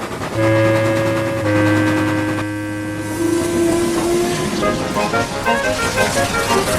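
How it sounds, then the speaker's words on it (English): A steam locomotive's whistle sounds steady and long, then a goods train rumbles past with clattering wheels and a rhythmic, growing roar. "a booming whistle in the distance. It grew longer and louder."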